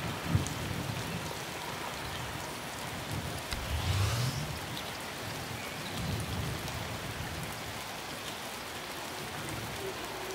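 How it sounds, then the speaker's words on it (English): Rain falling in Spore Galactic Adventures, a continuous soft patter of many drops with a faint low rumble swelling briefly near the middle, fairly quiet and unbroken. "That's new, it never rained before."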